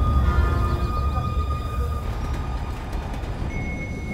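Steady low rumble of a commuter train running along the rails, with faint high tones from the carriage, continuous and fairly loud.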